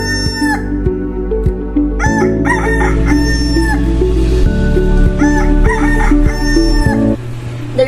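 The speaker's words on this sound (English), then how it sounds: "The rooster never failed of waking me up every day." A rooster crows loudly and repeatedly up close, long drawn-out calls overlapping with other fowl clucking in the background.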